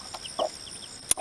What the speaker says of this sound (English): we have a broody hen with some babies